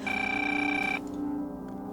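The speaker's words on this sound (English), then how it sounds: "Phone rings." A telephone rings in a house at night, one loud, bright bell burst lasting about a second before cutting off, leaving a low hum.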